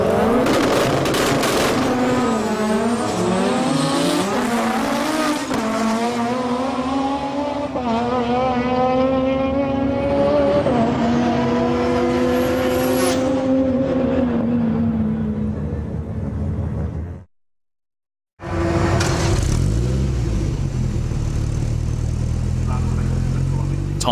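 Mazda RX-7 race cars in a street drag race roar through rising gear-change sweeps, rotary engines screaming loud and close, then cut briefly to silence before another engine blast returns.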